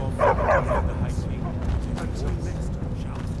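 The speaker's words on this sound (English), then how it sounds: "Don't mind the dogs. They get anxious when they haven't had dinner." Dogs in a castle kitchen in the video game Skyrim give a few short yips and whimpering barks near the start, followed by softer game ambience and faint clatter.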